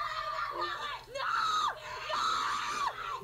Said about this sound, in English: a screaming child who's after a toy